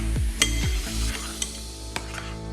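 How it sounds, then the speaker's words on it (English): Feta and egg are stirred together in a bowl, a few wet clicks and taps of a utensil against the bowl's side over a low background hum. "Mix it around, get all the feta covered in egg"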